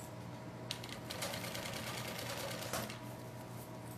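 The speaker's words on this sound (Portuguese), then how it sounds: "E você vai costurar exatamente em cima da última linha que você prendeu o seu vivo." A sewing machine stitching piping onto a small pouch, its steady mechanical hum running throughout and swelling slightly mid-clip, close and continuous with no speech.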